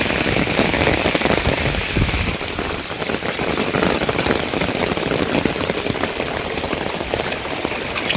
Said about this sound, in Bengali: বৃষ্টি দেখেন কি পরিমাণ বৃষ্টি হইতেছে।